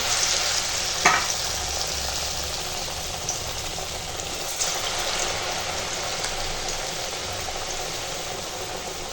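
Battered vegetable fritters, pumpkin flowers among them, fry in hot oil with a steady, close sizzle and crackle that runs the whole time, with one brief louder spatter early on.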